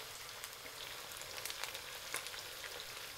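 Chicken pieces for Uyghur one-pot plov frying in hot oil in a pot, a steady dense sizzle with small crackling pops throughout, close and continuous with no talking.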